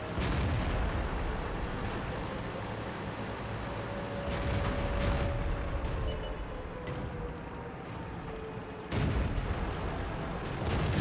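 Artillery shells striking a tank in World of Tanks, dense rumbling game battle noise with repeated heavy booms and explosive bursts, loud and continuous over eleven seconds.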